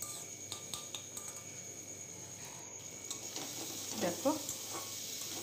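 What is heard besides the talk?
potatoes frying with spices in a pan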